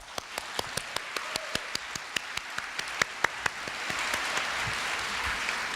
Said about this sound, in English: Please give each other a big round of applause.